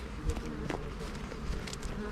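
Honey bees hum and buzz at a hive while a colony is being split, a dense, wavering drone up close with individual insects flicking past.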